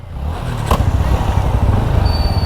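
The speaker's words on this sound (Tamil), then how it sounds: "வண்டி ஸ்டார்ட் ஆயிடுச்சுங்க. வண்டி ஸ்டார்ட் ஆச்சு." A motorcycle engine starts and settles into a loud, close, steady idle with a rough rumbling throb, outdoors, with a short bright clatter early on.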